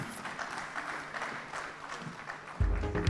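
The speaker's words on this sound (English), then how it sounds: "a huge round of applause for Mr. Sanjay Malhotra" Audience applause at the SBI Banking & Economics Conclave 2024 conference, a steady dense clapping from a hall crowd that runs throughout and swells louder near the end.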